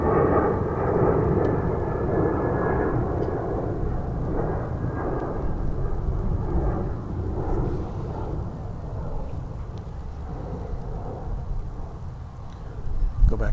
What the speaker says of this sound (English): I'm going to break away to this Alaska plane because we haven't seen any Alaska flights today.